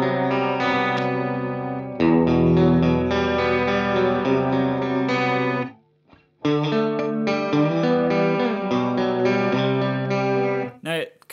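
Layered synth chords swell with a thick, shimmering synth ensemble chorus and echoing delay from the Valhalla Supermassive plugin, two long sustained phrases separated by a brief pause.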